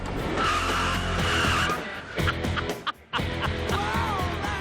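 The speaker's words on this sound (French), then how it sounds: "Quand il passe la ligne d'arrivée, il freine à fond." A car brakes hard from 80 km/h, its tires squealing and skidding loudly across pavement in a long screech, followed by a short pause and more engine and tire noise.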